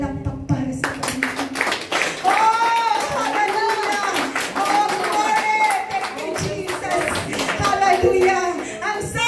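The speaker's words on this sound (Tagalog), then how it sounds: "Palakpak para sa Panginoon." A church congregation claps together in praise during worship, rhythmic hand claps running steadily under a loud leading voice and singing for several seconds.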